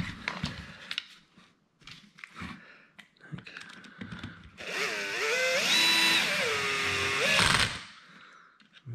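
On a 2022 Traxxas X-Maxx, handling clicks and taps come first, then a power drill whirs for about three seconds, its pitch rising and dropping as screws are tightened in a cross pattern.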